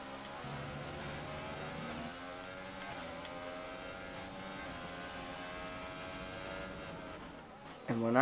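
A Formula 1 race car engine in the F1 2018 racing game holds a steady, droning, high-pitched tone through the whole stretch, then swells sharply louder in a final surge.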